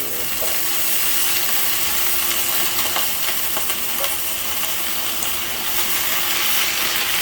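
Alugbati leaves sizzle and fry steadily in a hot pan, a dense continuous crackle with small clicks and pops throughout, no talking.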